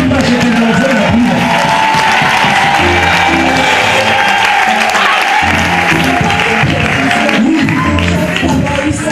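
A congregation at a Pentecostal Saturday service applauds and cheers after a healing testimony: loud, continuous clapping and crowd noise fills the whole stretch, with voices mixed into the din.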